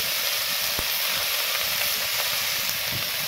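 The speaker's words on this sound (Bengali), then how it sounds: "সবজিগুলো ভালো করে ভেজে নেব।" Cut vegetables with tomatoes, salt, turmeric and chili powder fry in hot oil, giving a steady close-up sizzle and hiss with an occasional faint stir.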